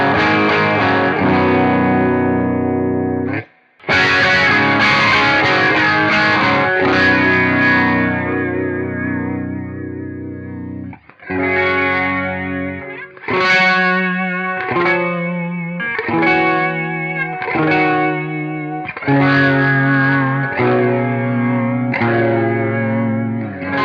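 Electric guitar chords swirling through a Strymon Lex rotary speaker pedal, with a warbling, doppler-like shimmer; loud and continuous, with brief pauses between phrases.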